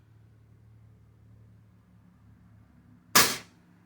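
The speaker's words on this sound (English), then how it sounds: "Here we go, second shot with the Norma 177 Golden Field Trophy." Unregulated air rifle firing a Norma .177 Golden Field Trophy pellet: one sharp, loud crack with a quick decay, standing alone after a low, quiet background hum.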